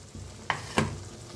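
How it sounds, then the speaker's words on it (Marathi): Hot water is poured into roasted masala in a pan, producing two quick sharp sizzling bursts over a low background, brief and close. "आणि थोडं गरम पाणी ओतूया."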